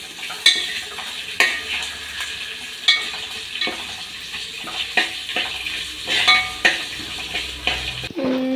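Cut ginger being sautéed for Kerala mango pickle, with steady close sizzling and frying plus regular scraping stirs of a spoon against the pan roughly every second, no voices.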